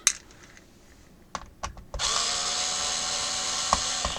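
A power screwdriver whirs steadily, backing screws out of a Compaq F700 laptop, preceded by a few small clicks and taps of handling the case.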